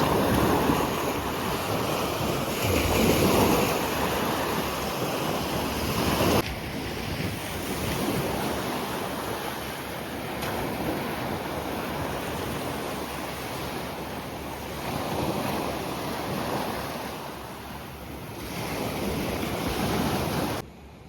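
Sea waves wash onto a wide beach by a seafront hotel in Salou, Spain, as a continuous loud roar of surf mixed with heavy wind buffeting against the microphone.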